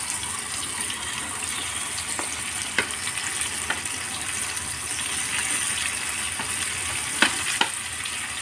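Shrimp frying in hot oil for a pineapple shrimp dish, a dense continuous sizzle with a few faint clinks of a utensil against the pan, close and steady with no speech.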